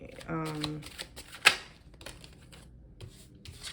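A tarot card deck is shuffled by hand in quick riffling bursts, crisp close flutters of cards with a sharp tap midway, alongside a person speaking softly.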